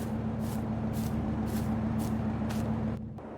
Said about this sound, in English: I'm going to end up spraying that here and rolling the beans